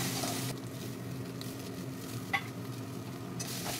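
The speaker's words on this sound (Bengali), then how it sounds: "সব কিছু দিয়ে আবারও ভালো করে নেড়ে চেড়ে নিচ্ছি।" Bombay duck fish mixture with chilli powder and Kashmiri chilli powder is stirred in a pan over low heat, a soft, close scraping and gentle sizzle with a brief clink midway, no talking.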